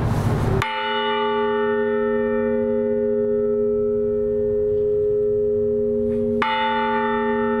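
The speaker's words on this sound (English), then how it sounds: "The disabled American veterans rang the bell 21 times and had a gun salute." Single courthouse bell on the Yellowstone County Courthouse lawn rung for Armistice Day by disabled American veterans: one loud clang with a long ringing hum, then a second strike near the end, under steady outdoor background.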